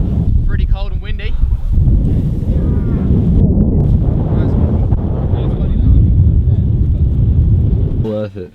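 Heavy wind buffeting the microphone in a constant loud roar on a cold winter hilltop, with brief voices talking at the start and end.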